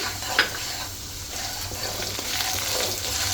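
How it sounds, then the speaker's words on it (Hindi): Semolina (sooji) roasting in ghee with a cardamom pod gives a gentle continuous sizzle and stirring scrape, with a brief utensil tap near the start; no one speaks. "तो सबसे पहले मैं इसमें डालूंगी सूजी को भून लेंगे।"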